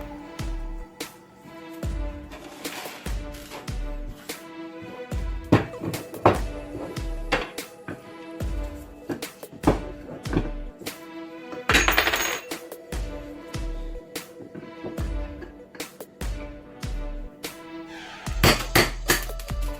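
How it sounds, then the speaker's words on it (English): Metal clinks and taps as an Allen wrench pokes and jabs through the inside of a CMMG AR15 22LR ten-round magazine, many sharp close knocks in uneven bursts with brief pauses. "See if I can poke it through with the Allen wrench."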